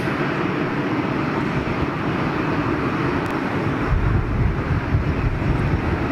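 Large Boeing 777 jet airliner with GE90-115B engines, a broad continuous roar that swells slightly toward the end, steady and loud with no talking.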